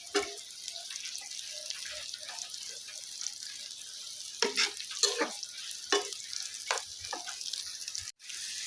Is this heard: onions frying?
yes